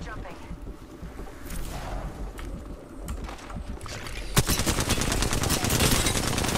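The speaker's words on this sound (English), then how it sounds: "I'm taking shots." Gunfire in a multiplayer shooter video game crackles in rapid bursts, growing louder and denser in the last two seconds. It sits under ongoing game sounds and a player's voice.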